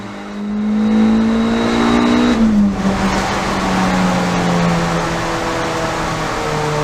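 A car engine drones steadily as it drives around a wet Donington Park race track, pitch rising and dipping with gear changes, with a constant rush of road and wind noise.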